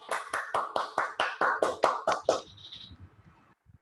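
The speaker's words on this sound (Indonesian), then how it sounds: "Mari teman-teman kita tepuk tangan buat Puspita" Claps from a small group at a Toastmasters club meeting in Denpasar, about ten sharp, fairly even beats over two and a half seconds, close and moderately loud, ending abruptly with near silence after.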